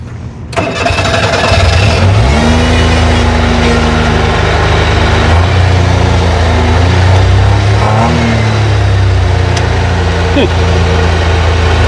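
Abandoned police car engine, hot-wired at the throttle, cranks and catches, then runs loud and close with rising and falling revs as it starts to drive. Speech can be heard over the engine.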